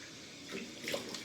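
Cold water splashes as a face is rinsed after a shave at a sink, a close, steady running-water rush with splashy surges toward the end.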